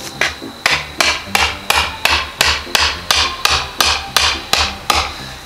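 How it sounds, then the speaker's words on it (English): A hammer drives a metal spike into the ground about a dozen times in a steady rhythm, each loud close blow ringing briefly before the next, with no voices. "Hammer it in."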